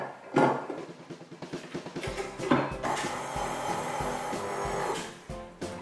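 Sifted dry ingredients being mixed in a mixing bowl for Oreo blondies, a steady close scraping and rubbing with light knocks of the utensil against the bowl.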